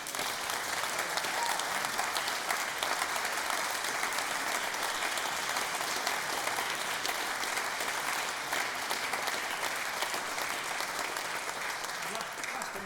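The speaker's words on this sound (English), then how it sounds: "I think you deserve another round of applause." A music competition audience claps steadily for about thirteen seconds, a dense, even roar of applause with no voices on top.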